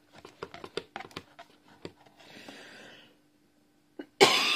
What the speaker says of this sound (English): Sorry, I suddenly have a coughing spell.